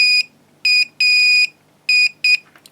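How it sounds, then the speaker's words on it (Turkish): A close car warning buzzer beeps in an irregular pattern, short blips mixed with one longer tone, loud against a quiet background. "87 ve 86 numaralı ayaklardan farklı farklı buzzer sesleri alıyoruz."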